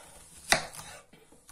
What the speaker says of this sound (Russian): Лук просто вот так нарезаю все.